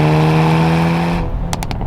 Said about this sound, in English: the exhaust sound on the Veloster N is just so good